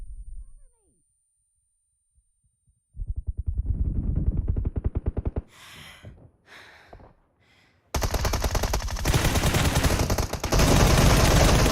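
Rapid automatic gunfire in the battle-royale game PUBG, a fast rhythmic burst of shots followed by a second, denser volley, loud and close, with a voice talking between them.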